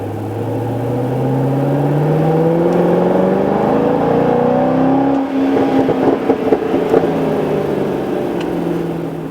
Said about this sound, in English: This is a second gear start, but just to hear this V8 music.